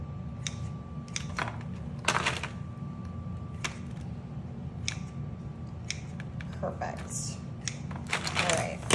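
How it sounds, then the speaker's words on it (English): Kitchen shears snip through seafood legs in a home kitchen, giving a string of sharp, irregular cuts and clicks over a steady low background hum, close to the microphone. "I'm using my clean kitchen shears."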